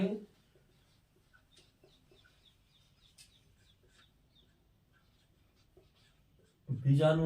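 Writing on a board or paper in a science class, faint scratchy strokes in short irregular bursts, close and quiet, with a voice briefly at the start and end.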